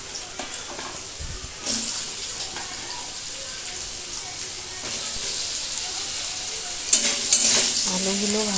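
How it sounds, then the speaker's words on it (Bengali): Potato pieces fry in oil tempered with bay leaves, giving a loud, continuous sizzle with occasional clatters of stirring and a voice speaking faintly in the background. "আলুগুলো যখন ভালো করে ভাজা হয়ে যাবে"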